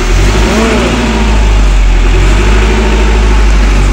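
An INTERGEN MWM 40 kVA diesel generator runs loud and close, a dense, steady low engine drone with no pauses and no voices.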